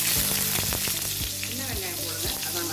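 Onion sizzling as it fries in a pan of hot oil for Tamil-style peanut chutney, a steady loud crackle with a few sharper pops and stirring knocks, close up and without talk.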